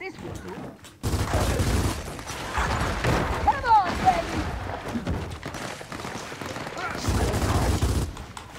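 Shotgun blasts and gunfire in Gears of War 4, sounding as loud, dense bursts of shots and thumps spread across the whole stretch with brief lulls between them.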